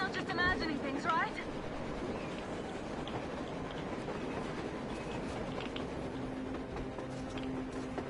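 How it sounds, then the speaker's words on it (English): A train running on the surface in the post-apocalyptic shooter Metro Exodus, a steady low rumble with faint rhythmic rail clatter that continues throughout, while someone speaks over it. "A damn train on the surface!"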